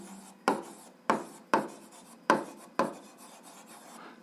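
Pen strokes on paper while writing algebra, a run of six or seven short scratchy marks in a loose rhythm, close and quiet with near silence between them.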